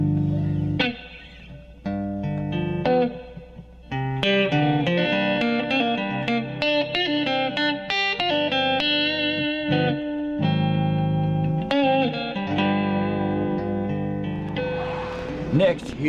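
Overdriven electric guitar improvises a blues solo over chords, a steady run of sustained and bent notes with effects and reverb, loud and upfront, no voices.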